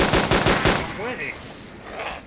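Gunfire from the video game DayZ: a quick burst of four or five loud rapid shots, then fading echoes and game ambience, with no voices during the burst.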